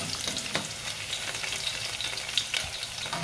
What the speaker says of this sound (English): we add some onions and give it a quick stir